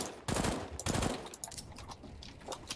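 Rapid gunfire from the Counter-Strike: Global Offensive video game, two sharp bursts of shots followed by scattered fainter cracks, quiet overall.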